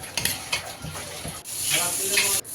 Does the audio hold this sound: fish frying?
yes